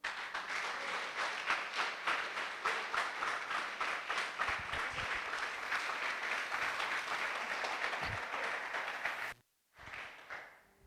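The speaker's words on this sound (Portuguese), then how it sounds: "Dá um aplauso a Jesus." A church congregation claps for Jesus during a sermon, steady rhythmic applause from a room of people that holds for about nine seconds, then cuts off abruptly before a brief murmur.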